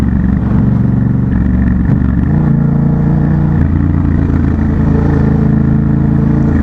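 A Yamaha MT-07 motorcycle roars loud and close inside a tunnel while climbing a mountain road, its engine droning steadily with rising and falling revs and no talking.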